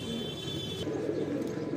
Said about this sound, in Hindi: गोल्डन बाजरे कबूतर।